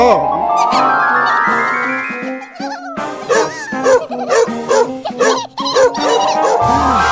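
Cartoon dogs bark and yip repeatedly in a short, loud, irregular burst from an animated comedy, with speech and music mixed in.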